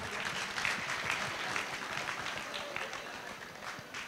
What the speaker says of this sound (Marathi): या सगळ्यांसाठी एकदा जोरदार टाळ्या होऊन जाऊ द्या